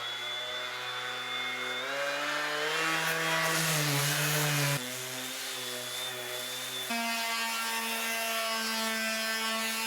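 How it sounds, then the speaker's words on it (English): A power sander works old wooden stair treads, its motor whining in a steady tone that shifts pitch and pressure as it scrubs the wood, close and continuous. "Now on to sanding."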